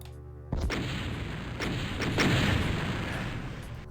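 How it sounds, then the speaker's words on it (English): A BFG bouncy launcher fires in a Doom mod game, a sudden heavy boom followed by several further booming blasts that ring out and decay, loud and close with no talking. "it's a BFG bouncy launcher thing"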